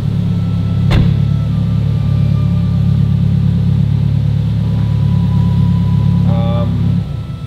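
A Subaru WRX STI idles with a steady, loud low rumble, a sharp click near the start, then the engine cuts off abruptly near the end with a brief whine as it dies.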